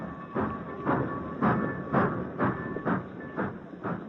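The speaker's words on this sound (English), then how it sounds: "his father's train moved out of the station" Radio drama effect of a steam train pulling out of a station: rhythmic chuffs repeating about twice a second with a steady whistle-like hiss and tone, moderately loud and alone.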